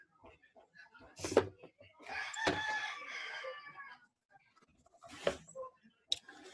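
Chickens cluck and a rooster crows in a few bursts, fairly faint and intermittent, with people talking quietly in between.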